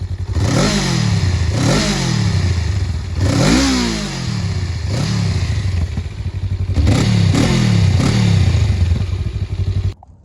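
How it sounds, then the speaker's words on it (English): A 2021 Honda Rebel 500 ABS motorcycle engine revs repeatedly, each throttle blip rising and falling in a loud, close series of about eight swells over a steady idling thrum, with no talking. "So I know some of you were waiting to hear the bike fire up, so I'll give it a little bit of a rev here"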